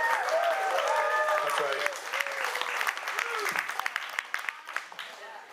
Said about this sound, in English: That is an appropriate time for your woo and clap.